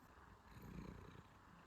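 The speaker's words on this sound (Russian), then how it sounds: "Она прям так громко мурчит." A house cat purring loudly and close, a steady low rumble with faint rhythmic pulsing that continues without a break and with no voices.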